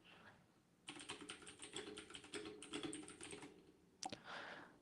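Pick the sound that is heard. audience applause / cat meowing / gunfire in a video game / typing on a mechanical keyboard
typing on a mechanical keyboard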